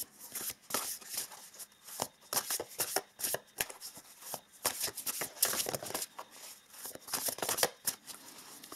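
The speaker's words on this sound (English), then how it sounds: "Now I also want to pull some oracle cards here." Spellcasting Oracle cards being shuffled by hand up close, a soft continuous run of quick papery riffles and slaps in uneven bursts, fairly quiet and with no talking.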